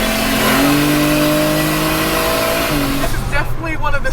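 A 600HP 1JZ-swapped big-turbo Toyota Hilux pickup accelerating hard, loud continuous engine roar climbing in pitch through the gears, then a brief shift and renewed pull close by.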